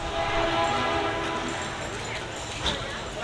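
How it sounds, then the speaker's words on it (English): A train approaching around a bend near an outdoor car show, a low steady rumble with faint tonal hum, heard at a distance beneath ambient crowd noise. "I hear that train coming."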